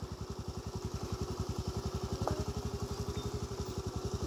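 A motorcycle engine putters steadily with an even, fast thumping rhythm, close and fairly loud, on a terrible road near Munnar, India, with no talk over it.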